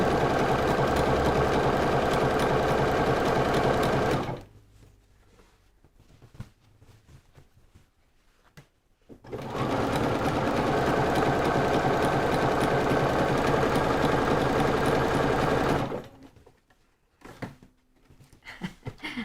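A sewing machine stitches fabric in two loud, steady runs of rapid mechanical whirring, separated by a quiet pause with faint handling noises, then stops again near the end.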